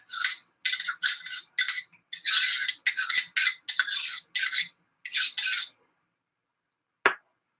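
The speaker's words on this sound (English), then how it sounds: "knife to kind of stir it all in together. Butter, beans, nutmeg, the salt bath, and the almondine." A butter knife stirs butter into cooked green beans, making a quick series of bright metallic scrapes and clinks in an irregular rhythm, close and clear, ending after a pause with one last tap.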